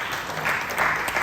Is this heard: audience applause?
yes